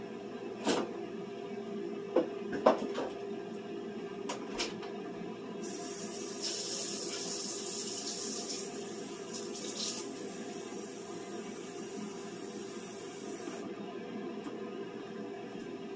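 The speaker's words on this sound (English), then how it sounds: "I'm going to add a well of water around the meat." Water pours steadily for several seconds around pork in a pot amid quiet kitchen clatter, with a few knocks and clicks beforehand.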